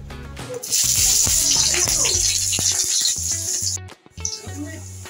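Green chilli dropped into hot oil in a pan, a loud, continuous bright sizzle that breaks off briefly near the end, then resumes, with no talking.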